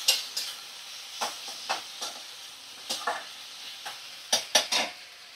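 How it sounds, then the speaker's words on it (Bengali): Cumin paste stirred and fried in a pan over a low flame for a fish dish, a steady soft sizzle broken by repeated sharp scrapes of a utensil against the pan, some falling in quick clusters, close by and with no talking. "তো ফ্লেমটা একটু লো ফ্লেমে করে ভালো করে মশলা কষিয়ে নেব"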